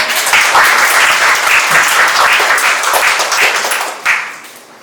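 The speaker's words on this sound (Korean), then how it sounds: "박수로 모시겠습니다." An audience at an AI careers seminar and talk concert applauds to welcome a presenter, loud sustained clapping from many hands that fades out at the end.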